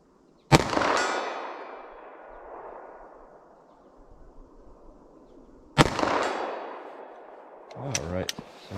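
Two loud, sharp gunshots from a .22 Mag or 9mm pistol fired at a steel target outdoors, each one ringing out with a long decaying tail, followed by a faint metallic clang and brief voice sounds near the end.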